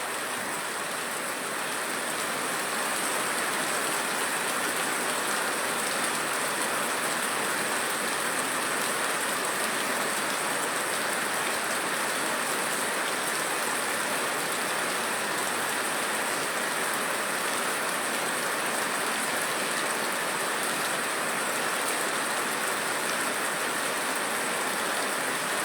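Heavy rain falls steadily in Amaravila near Neyyattinkara, Thiruvananthapuram, a loud unbroken wash that holds constant for the whole stretch with no voices.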